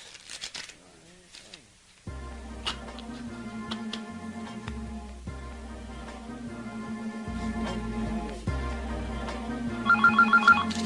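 A telephone rings near the end, cutting through loud R&B, soul and hip-hop music with a heavy bass line that plays throughout.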